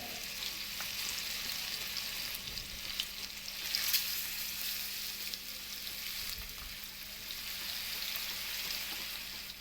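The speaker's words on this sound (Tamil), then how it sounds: "நல்லா ஃப்ரை ஆகட்டும்" Masala-marinated chicken fries in hot oil in a pan, giving a soft, steady sizzle and crackle with a few brief louder spits, faint and continuous throughout with no talking.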